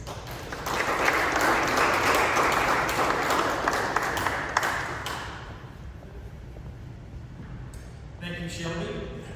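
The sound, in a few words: audience applause welcoming a speaker panel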